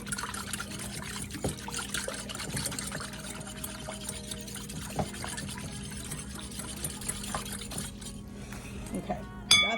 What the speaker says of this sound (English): Give this a stir just to dissolve the sugar